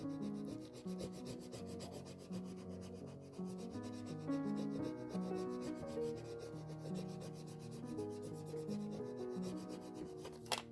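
Steady rubbing of rub-on transfers onto Christmas postcards, a soft continuous scratchy friction heard close and alone, with no voices.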